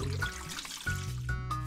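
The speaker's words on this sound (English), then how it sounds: "Move the hose to fill up the dog's water dish" Cartoonish water trickling and pouring from a hose into a dog's water dish in a kids' mobile science game, a soft liquid stream with bright tonal chimes over it.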